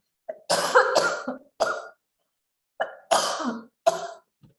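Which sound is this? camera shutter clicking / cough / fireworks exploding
cough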